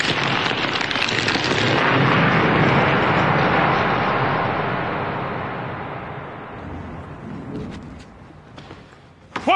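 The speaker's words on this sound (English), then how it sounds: "That was just a bolt of lightning in a far-off kingdom." A stage thunder effect for a distant lightning bolt in a Broadway musical: a loud, broad rumble that starts at full strength and slowly rolls away over several seconds, ending with a faint crackle.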